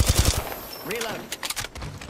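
Rapid gunfire strikes the player in a shooter game, a quick burst of shots at the start followed by scattered impacts and game effects, with a voice talking over part of it.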